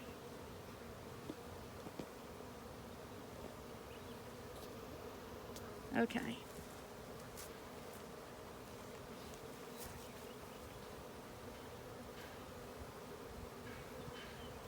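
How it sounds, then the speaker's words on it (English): Continuous low buzzing of many honeybees in a hive during an inspection, faint and steady, with a soft click and a brief spoken word partway through. "there are lots of bees in this hive"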